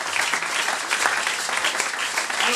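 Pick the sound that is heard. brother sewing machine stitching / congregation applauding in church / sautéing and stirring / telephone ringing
congregation applauding in church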